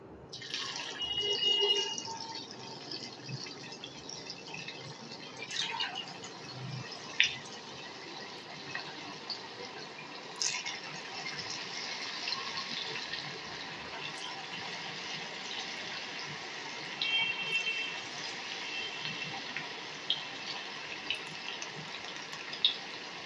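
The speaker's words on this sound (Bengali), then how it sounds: "এখন আমি আস্তে আস্তে করে পকোড়াগুলোকে ভেজে নেব" Pakoras sizzling as they fry in hot white oil, a steady bubbling hiss with scattered crackles and pops throughout, close and moderately loud with no voices.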